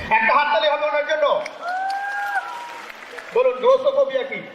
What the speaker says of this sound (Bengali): একটা হাততালি হবে ওনার জন্য।